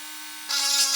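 A power tool enlarges a hole in a plastic Commodore 64 power supply case, giving a short, close, high-pitched grinding whir that rises sharply halfway through.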